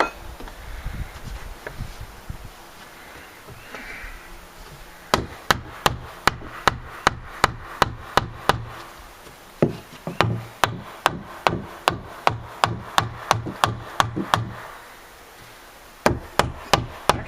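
A hammer strikes a wooden deck rail during repair work, sharp close blows landing in quick steady bursts of several hits with short pauses between runs, with quieter handling noise at the start.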